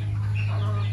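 Native hens on a small Philippine farm cluck briefly in a short burst, fairly close, over a steady low electrical hum.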